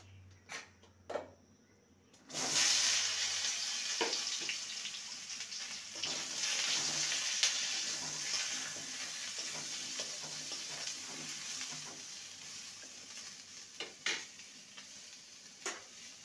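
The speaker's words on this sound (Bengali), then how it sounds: "এবার ওই তেলে আমি পটলগুলোকে ভেজে নেব।" Pointed gourds (parwal) go into hot oil with a loud sizzle after two seconds, then fry in a steady hiss marked by occasional taps and stirring knocks.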